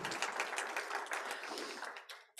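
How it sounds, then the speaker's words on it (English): An audience at a Saturday-morning individual taxation seminar claps in a full, even round of applause that holds steady, then thins and trails off near the end. "let's give them a round of applause for showing up on Saturday morning"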